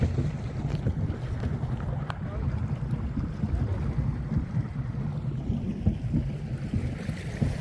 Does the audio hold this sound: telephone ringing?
no